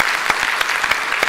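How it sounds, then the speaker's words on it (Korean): A church congregation claps in welcome during a Sunday service, a brief burst of dense, steady applause with a few sharper individual claps standing out. "우리 박수로 환영하겠습니다"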